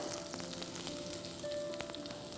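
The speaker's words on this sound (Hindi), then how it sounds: "अब इसमें हम डालेंगे लहसुन, और इसे भी सुनहरा होने तक पका लेंगे।" Garlic frying in hot oil alongside crackling mustard seeds, Andhra-style mushroom cooking, gives a steady close sizzle with scattered sharp pops and crackles throughout, no talking.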